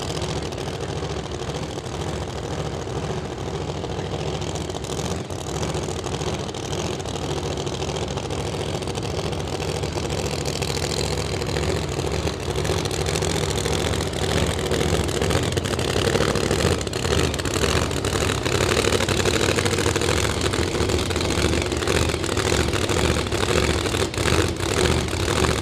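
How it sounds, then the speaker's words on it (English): A Pro Mod Chevrolet Corvette drag car engine idles loudly at a drag strip test session, a lumpy, rumbling idle that grows slightly louder and rougher as it warms, continuous and close without talk. "Dakota Jake putting some heat in the engine, some heat in the tires, gonna roll himself into the staging beams"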